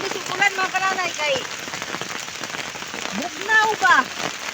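Heavy rain falls steadily on a chili farm during a storm at harvest time, a constant close patter under a voice that talks through most of it.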